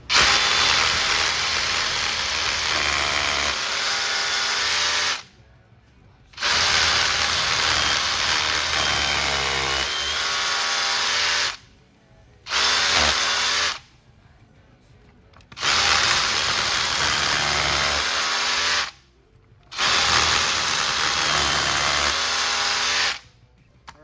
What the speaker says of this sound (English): You're also gonna have to have a hammer drill.